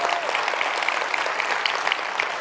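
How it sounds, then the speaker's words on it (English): A symposium audience gives a loud, continuous round of applause for seven insurance startup founders at an accelerator's final pitches, with dense clapping throughout and no break. "I'd like to one more round of applause for seven amazing founders"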